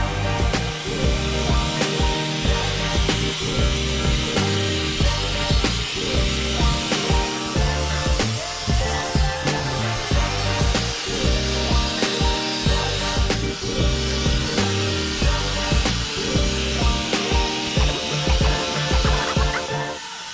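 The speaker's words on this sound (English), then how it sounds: "We finished grinding" Power grinding of fiberglass on a 48-year-old sailboat gives a loud, continuous, harsh whir with rhythmic rasping pulses running steadily throughout.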